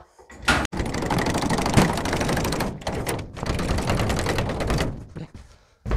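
Something is ratcheted tight in a rapid run of clicking strokes, loud and close, broken by a brief pause and continuing in steady bursts for several seconds without speech.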